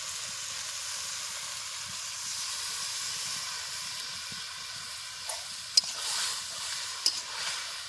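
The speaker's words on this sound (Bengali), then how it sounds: "আলুগুলো একটু কষিয়ে নেব" Potatoes fry in a pan for aloo posto, giving a steady soft hiss and sizzle throughout, with a couple of brief sharp clicks near the end as the pan or utensil is touched.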